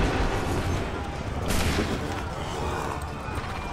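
A musket volley in Assassin's Creed III cracks out as one loud, ragged burst of gunfire within a noisy battle scene.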